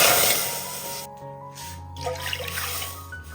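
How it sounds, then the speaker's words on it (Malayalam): Milk poured into a heated pan already holding a spoonful of water, a steady liquid splash and trickle that fades midway, then resumes with gentle bubbling and dribbling sounds; no voices. "ഇനി ഇതിലേക്ക് പാലൊഴിച്ച് കൊടുക്കാം"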